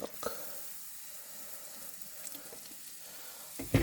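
Milk poured into a hot cast iron pan while making biscuits and gravy at camp, giving a steady soft sizzle and hiss throughout, with brief clinks at the start and end.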